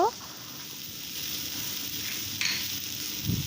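Small mourola fish fry in a little oil in a pan, a steady soft sizzle throughout with a couple of brief louder crackles and clinks of stirring, close by.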